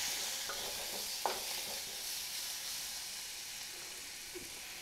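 Chopped tomatoes sautéing in hot oil in a pan for South Indian tomato rasam, a steady soft sizzle and hiss with a few faint stirring clicks, close and continuous with no talking.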